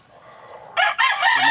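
A rooster crows once, loud and close, breaking abruptly out of near silence with a bright, broken call that holds to the end.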